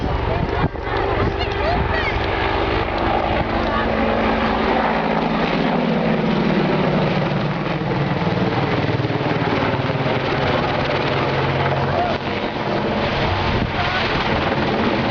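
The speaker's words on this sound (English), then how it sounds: "showing again great manoeuvrability of this helicopter" An Army Air Corps Apache AH1 attack helicopter roars continuously at an airshow, with a thick rotor and engine drone and wind buffeting the microphone, while a voice talks over it.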